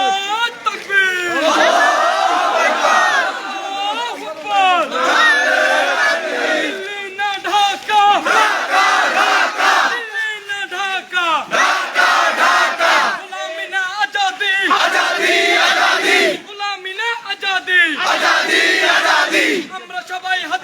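Village protest march crowd chanting slogans in loud call-and-response bursts, voices shouting in unison with brief gaps between phrases, sustained and close throughout.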